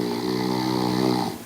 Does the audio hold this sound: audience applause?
no